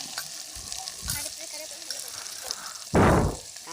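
Garlic and sliced onions sizzle in hot oil for a fish curry, a busy crackling hiss with a few stirring scrapes and one loud burst of spitting near the end; close up, no talking.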